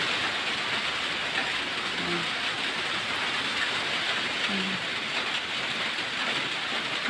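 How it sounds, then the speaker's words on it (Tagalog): Heavy typhoon rain pouring down in a dense, steady roar without letup, loud and close, with a couple of faint voices barely audible beneath it. "napakalakas ng ulan dito mga guys"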